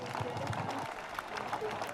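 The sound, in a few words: wedding guests applauding at civil ceremony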